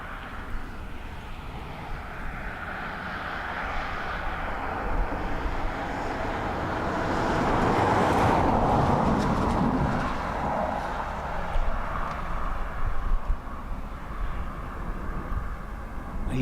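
A plane lands in gusty crosswind conditions at Dublin Airport, a broad engine roar that swells toward the middle as it passes nearby and then fades into steady outdoor rumble, with no talking.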